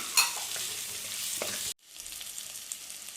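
Onions, green chilies and crushed green peppercorns sauté in a pan for a crab roast. A bright hiss and sizzle with a few stirring scrapes is cut off abruptly, leaving a quieter crackle.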